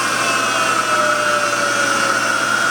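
Acer Ultima 10 x 50 inch milling machine with its spindle running at 3,000 RPM, giving a steady, loud, unbroken motor whine with strong high tones and no talking.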